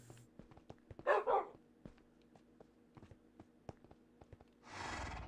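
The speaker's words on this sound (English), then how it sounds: "I'm going to stand out there while I'm fighting two dogs in here." Minecraft dogs barking: a pair of quick yaps early on and a broader bark-like burst near the end, with soft ticking game sounds and light footsteps between them.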